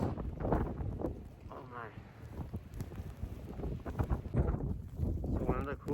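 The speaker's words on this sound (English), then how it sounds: "here comes another wind gust" Strong wind gusts roar during a coastal Massachusetts blizzard, a broad low rumble buffeting the microphone steadily throughout, with someone talking loudly over it.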